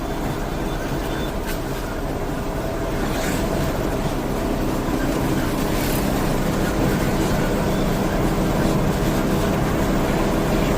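A new truck cruising on a highway at about 80 km/h gives a steady, loud cabin roar of engine, tyres and wind that is broad and continuous throughout, with no voices.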